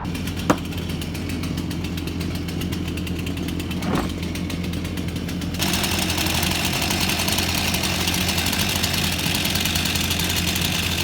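A Ford Workmaster diesel tractor engine idles steadily nearby with a rough, chugging rumble that grows slightly louder and harsher partway through.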